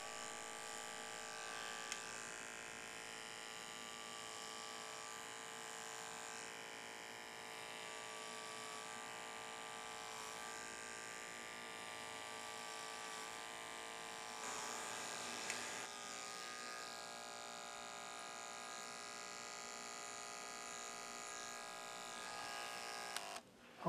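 An electric hair clipper fitted with a 1/4 inch blade cuts hair for a comb-over, its steady close buzz running continuously and alone.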